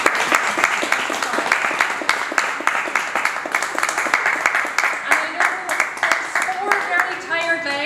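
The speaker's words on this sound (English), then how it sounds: "Can we give Father a round of applause, please?" Volunteers and supporters at a charity walk for Mary's Meals give a priest a round of applause. The individual claps are distinct and moderately near and keep a steady pace, with some voices talking over the clapping toward the end.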